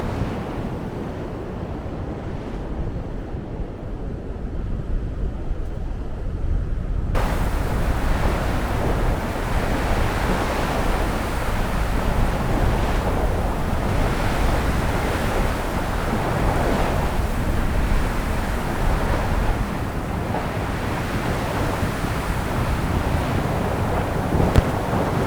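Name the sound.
wind and waves on Luskentyre beach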